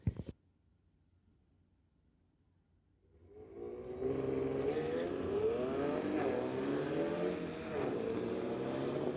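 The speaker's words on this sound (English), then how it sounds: "BMW pulling up on the tower side, going against Steven Schmidt, 1962 VW Beetle" A BMW and a 1962 VW Beetle launching in a street-legal drag race: a short burst at the start, near silence, then a loud engine roar swells in and holds with rising revs, heard from the trackside.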